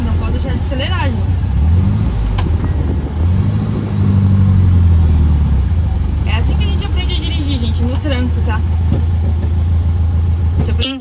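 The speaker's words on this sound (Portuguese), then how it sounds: "Eu tenho que parar, botar freio de mão e ficar acelerando." Broken-down Volkswagen Beetle (Fusca) stopped on an avenue with the handbrake on, its engine held at a steady rev with rising and falling surges, loud and close, while a person talks over it.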